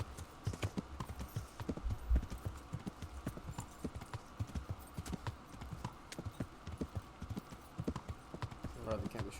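Horse hooves clip-clop steadily on a path in the medieval video game Kingdom Come: Deliverance, a continuous rhythmic trot under low ambient noise with faint background voices.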